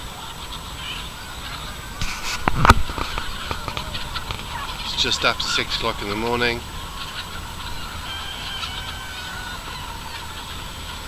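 California White turkeys gobble and call at early morning, several loud bursts rising over a quiet farmyard background, while someone speaks nearby.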